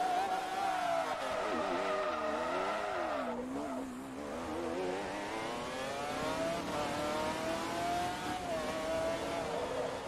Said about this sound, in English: I've spun on that curb twice in a row now.